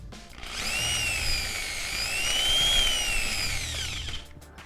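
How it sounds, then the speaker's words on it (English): A power drill bores through the soft plastic or urethane front lip of a Civic sedan, a steady high whine that swells and eases slightly over about four seconds before cutting off. "And it's pretty simple to drill."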